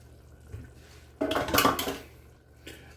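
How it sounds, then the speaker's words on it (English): A spoon scraping and clinking against a pot while seasoning is stirred into red chili, a short clattering burst amid quiet kitchen background. "right here is where you just go ahead and stir all that in"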